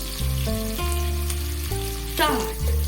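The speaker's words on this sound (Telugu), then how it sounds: "ఆనియన్స్ ఫ్రై అయిపోయినాయి" Onions and green chillies fry in a pan with a steady sizzle, partly masked by tonal background music that plays throughout, with a brief louder burst of stirring near the end.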